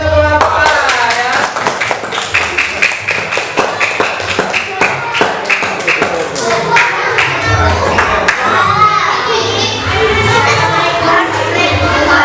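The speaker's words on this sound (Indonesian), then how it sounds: "Beri tepuk tangan untuk kelompok A ya." A classroom group of students claps for a team, a lively burst of many hands in a ragged rhythm of sharp taps, with children's voices and chatter mixed in throughout.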